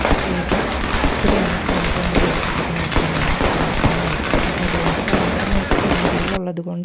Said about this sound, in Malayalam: ആ വെടിക്കെട്ടിൻ്റെ കുറച്ച് വീഡിയോ ക്ലിപ്സ് ഞാനിവിടെ ആഡ് ചെയ്ത് കൊടുക്കുന്നതായിരിക്കും.